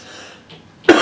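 A single sharp, close cough comes in near the end after a moment of near silence, loud and abrupt, made by a man preaching.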